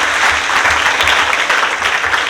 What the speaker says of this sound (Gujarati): તો એકવાર પોતાને માટે જોરદાર તાળીઓ થઈ જાય પ્લીઝ.